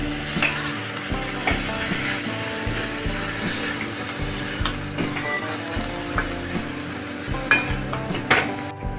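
Cabbage poriyal with grated coconut is stirred in a pan, a close, moderately loud scraping and clattering of the spoon over a steady frying sizzle, in uneven repeated strokes.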